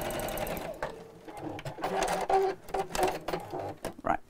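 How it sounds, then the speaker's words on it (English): A sewing machine stitches down each side of a fabric bag with rope handles. Close, rapid mechanical clatter comes in short uneven runs that pause briefly between bursts. "just sewing down each side"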